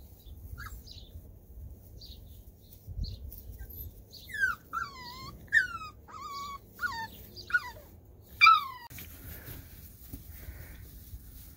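A farm dog whimpers in a run of high, rising whines, about six short cries bunched in the middle of the stretch over quiet, low background noise.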